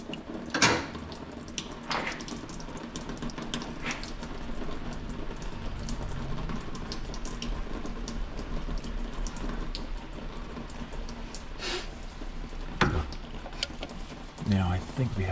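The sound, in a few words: coolant draining from a 2020 Dodge Ram 1500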